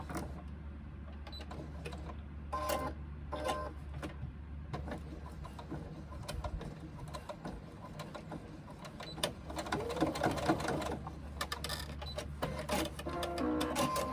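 A domestic sewing machine top-stitches a zippered front pocket on a sling bag. The mechanical whirring runs in stop-start bursts of rapid needle clatter at a moderate, close level.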